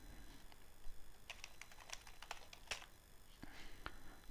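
A password is typed on a computer keyboard in a quiet room, with a loose run of faint, close key clicks in small clusters and short gaps between them.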